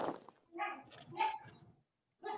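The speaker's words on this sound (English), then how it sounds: "My dogs are barking in the background" Dogs bark and yip in the background of a home setting, a few quiet, muffled barks in short bursts with a brief pause between them, faint and somewhat distant.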